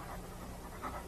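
A dog panting, a steady quick run of breaths, faint and close, with no talk.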